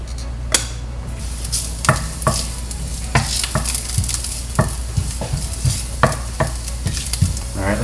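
Ginger sizzles in hot oil in a 24 cm Buffalo stainless steel saute pan, a steady close frying hiss broken by repeated sharp metallic clinks and scrapes of a utensil stirring against the pan.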